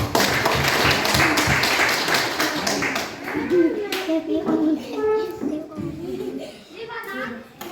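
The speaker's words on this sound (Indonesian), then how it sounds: "kita berikan tepuk tangan lagi sekali" Children and adults in a classroom clap together in a dense burst of applause for a group presentation, fading into scattered claps with children's voices and chatter.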